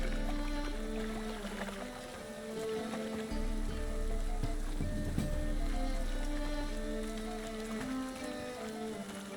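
Steady rain patters down in the video game The Witcher 3: Wild Hunt, a continuous hiss of drops layered under a constant low drone and game music throughout.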